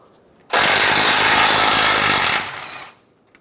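A 12 mm socket on a power tool spins out a frame bracket bolt on a 2000-2006 Toyota Tundra: one loud, harsh, rattling burst of about two and a half seconds that fades as the bolt comes free.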